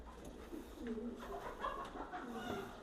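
Racing pigeons in a loft give soft, low cooing, a steady murmur of overlapping coos at moderate distance with no one talking.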